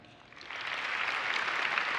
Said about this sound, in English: go ahead now, go crazy, and clap for the DeLorean if you liked it